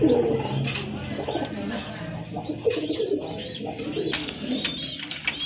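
Racer pigeons coo steadily in a loft, soft low throaty calls repeating and overlapping throughout amid faint chirps and general bird bustle.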